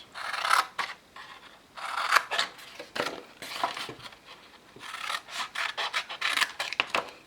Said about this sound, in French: Donc on va juste donner un petit coup de ciseau